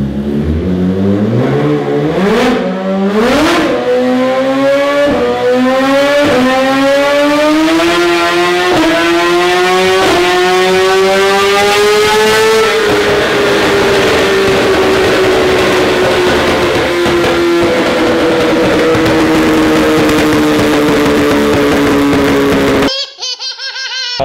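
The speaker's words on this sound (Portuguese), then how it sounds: "agora vamos ver essa BMW S1000 acelerando no dinamômetro" A BMW S1000 sportbike engine on a dynamometer screams through repeated high revs, pitch climbing and dropping in waves, then holding a long sustained whine before cutting off abruptly; loud and close.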